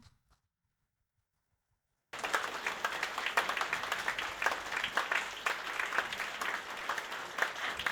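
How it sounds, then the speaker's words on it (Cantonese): Warm applause from a seated audience welcoming guests at a kindergarten graduation ceremony, starting abruptly after silence and continuing as a steady, dense clatter of clapping. "請大家以熱烈嘅掌聲歡迎我哋今日嘅嘉賓"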